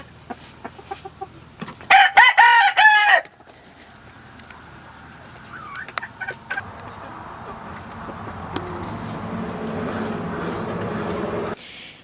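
Cochin and Cochin-Silky cross chickens in a barn, with one loud nearby crow early on followed by scattered soft clucks and a low, buzzing hum of insects.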